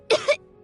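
Two quick rough coughs from a sick character in the video game Genshin Impact, close and fairly loud, followed by quiet.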